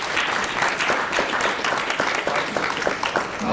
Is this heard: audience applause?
yes